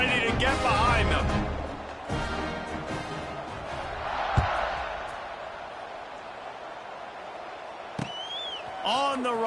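Stadium crowd in the College Football 26 video game swells into a broad roar at kickoff, rising mid-clip and then settling to a steady murmur, with a commentator talking over it.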